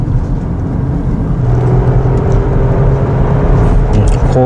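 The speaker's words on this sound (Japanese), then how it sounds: "坂を登るときに踏み込んでもワーンと音がするんですけど" A Toyota Mark X sedan's engine drones steadily while the car accelerates up a hill, a loud, constant low hum with a faint whir layered above it and no voices.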